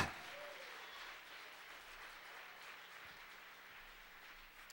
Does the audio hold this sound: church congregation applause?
yes